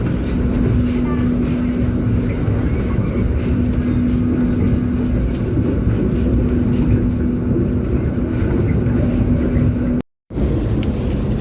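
Parahyangan 133 passenger train rolling steadily after leaving Bandung station, a continuous loud rumble of wheels and carriage noise heard from inside, broken by a brief drop-out near the end.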